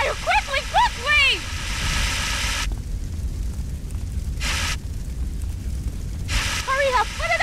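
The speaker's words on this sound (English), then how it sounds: "Put out that fire quickly, quickly!" Fire roaring through a collapsing building in GTA San Andreas, a steady loud rushing crackle with dull booms, under agitated shouting voices at the start and end.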